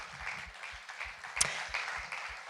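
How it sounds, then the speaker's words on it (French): A church congregation applauds during a French-language Sunday service, a moderate, steady patter of many hands carrying on at an even level with a few sharper individual claps, with no talking over it. "Est-ce qu'on ne peut pas applaudir le Seigneur pour réaliser à quel point il s'est approché"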